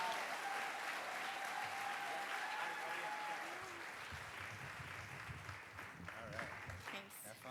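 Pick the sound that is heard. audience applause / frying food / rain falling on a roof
audience applause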